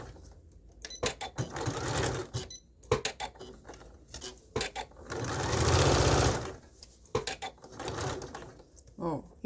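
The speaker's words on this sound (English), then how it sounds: "I've pinned the dart and I'm going to sew that." A sewing machine stitching a pinned dart on a kick-pleat garment, running in loud, close bursts of rapid mechanical whirring with short pauses between runs, while a person talks between and over the stitching.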